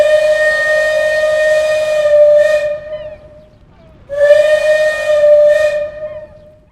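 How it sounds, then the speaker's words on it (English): A high-pitched narrow brass whistle on the steam locomotive Genevieve, a colliery engine of around 300 horsepower, sounds two long shrill blasts with a hiss of steam, separated by a brief pause, loud and close with no talk. "Genevieve is equipped with a high-pitched narrow brass whistle."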